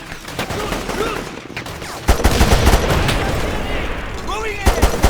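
Gunfire from the video game Mercenaries 2: World in Flames: repeated sharp shots and bursts crack through steady battle noise, with shouted voices over the firefight.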